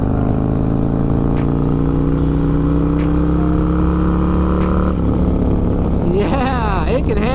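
Harley-Davidson M8 Bagger fitted with an S&S Sidewinder 2-into-1 exhaust, a steady loud engine drone that holds, then shifts pitch near the end as the revs rise and fall.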